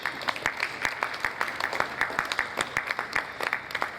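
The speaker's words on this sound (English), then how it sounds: "Once again, please, a round of applause for QS Talali as they come up the stage." Audience applause at a business roundtable on the 2022 Appropriation Act and the construction industry outlook, a steady patter of many hands clapping throughout, moderately loud with no talk over it.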